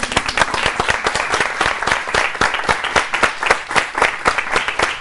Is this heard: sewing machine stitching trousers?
no